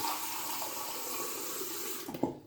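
Hot water runs steadily from a tap into a shave soap bowl, a continuous close splashing rush that cuts off abruptly at the end.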